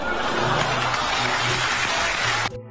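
An audience at an awards ceremony breaks into warm applause, a dense, loud wash of clapping that holds steady and then cuts off abruptly.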